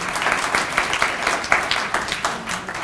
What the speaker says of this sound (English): I think that applause is well deserved.